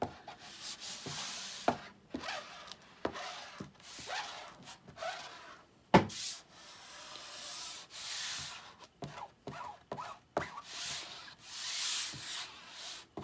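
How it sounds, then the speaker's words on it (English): A large squeegee is pushed across a transfer sheet to work out trapped air, giving a series of short, close rubbing and scraping strokes in uneven bursts with brief pauses and no talking. "we're going to take our large squeegee and we're just going to work the space out."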